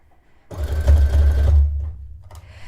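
A sewing machine runs loud and close as it stitches dress fabric just past a strip of lace, a steady motor burst of about a second that then trails off, with no talking.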